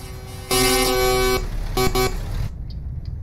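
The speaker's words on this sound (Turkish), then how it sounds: "Biraz kornaya basayım da gitsin." A loud truck horn in Euro Truck Simulator 2 multiplayer blares once for about a second, then gives two shorter blasts over a steady engine rumble.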